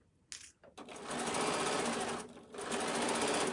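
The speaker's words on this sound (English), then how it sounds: "I'm just going to stitch right here, right along the edge, and wherever that meets" Sewing machine stitching along the edge of fabric scraps for a pincushion, a short start followed by two loud, steady bursts of rapid mechanical whirring close up, with a brief pause between them.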